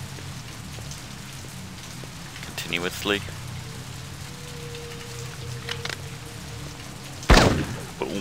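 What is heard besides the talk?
rain falling in the Blade Runner PC video game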